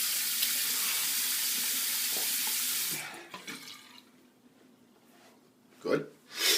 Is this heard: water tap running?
yes